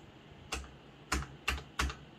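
Four sharp key clacks on a Corsair K60 RGB mechanical keyboard with Cherry Viola switches land close and distinct, unevenly spaced like slow, deliberate presses, with no talk.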